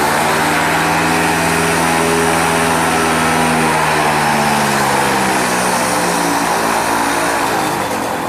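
Paramotor engine held at full throttle in a training simulator, a loud, close, continuous high-pitched buzzing drone with a slowly shifting pitch, steady throughout with no talking.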